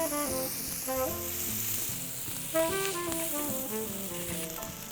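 A steak sears in a hot oiled cast iron pan, a steady loud sizzle running throughout under melodic background music.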